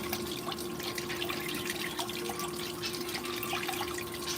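Water runs steadily through a blue bowl gold concentrator used to separate black sands, a constant close trickling wash with faint dripping, loud and unbroken throughout with no talk.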